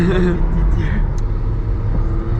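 BMW car accelerating on a motorway, heard from inside the cabin: a deep, steady engine and road rumble runs throughout while people talk over it.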